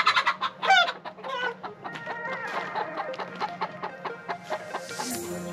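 Chickens in a farm pasture cluck in quick, close bursts, several hens overlapping in a busy, rhythmic chatter, with a rooster-like call rising early on.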